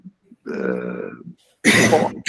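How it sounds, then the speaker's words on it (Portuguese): A short throaty grunt followed by a single sharp, harsh cough, close and fairly loud. "Não, desculpa, eu tossi."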